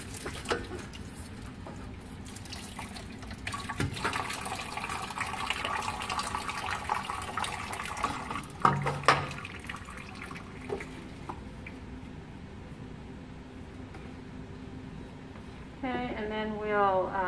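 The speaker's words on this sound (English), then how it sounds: "Put the rest of the sample into this white tray with a little water." Water and a stream sample slosh and trickle as they are poured into a white tray, a steady liquid pouring with a few drips and splashes, while a person talks nearby.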